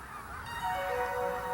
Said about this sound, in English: Last to arrive are the Canada geese.